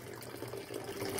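Water runs steadily from an inlet pipe into a channel of an NFT hydroponic tomato system in India, a soft, continuous trickle and splash lasting about a second with no speech.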